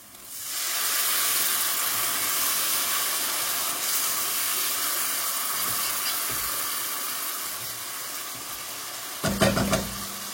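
A steady broad sizzle of spice paste frying in oil in a pan with a little water, for a fish curry with beans, constant and fairly loud, with a brief clatter of stirring near the end.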